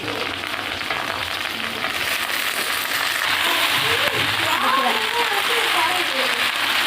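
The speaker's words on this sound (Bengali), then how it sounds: "এবার শিম, বেগুন আর মিটুলিগুলো দিয়ে দেবো।" Beans, eggplant and other vegetables sizzle in a frying pan as they are added, a loud, steady crackling hiss that swells partway through, with a voice talking over the frying.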